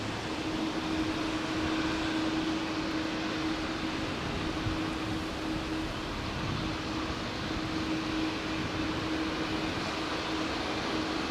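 A heavy airliner passes close by on Heathrow runway 09R, its steady, loud roar holding a broadband rush with a sustained droning tone throughout, no talk over it.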